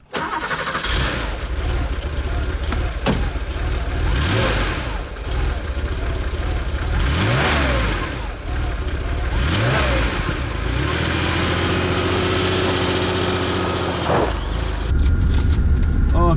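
Air-cooled Porsche 911 engine close by, revving in several rising pulls and then settling into a steady idle before a fresh rev near the end, loud and continuous.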